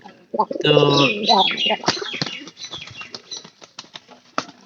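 Pigeons kept in a village flap their wings in a brief loud burst as feed is scattered, followed by softer fluttering and scattered coos beneath someone talking nearby.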